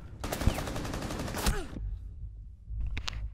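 Gunfire in Rainbow Six Siege on Xbox One sounds as a rapid automatic burst of about a second and a half, followed by a couple of sharp shots after a brief quiet.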